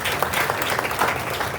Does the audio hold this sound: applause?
yes